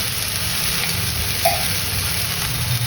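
Turmeric, cumin and coriander powder sizzling while frying in a pan, a steady close hiss of hot oil with light stirring scrapes throughout.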